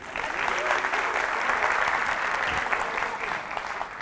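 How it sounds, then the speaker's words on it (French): An audience claps steadily throughout, a dense continuous applause with faint voices mixed in beneath. "applaudissements pour Nadine"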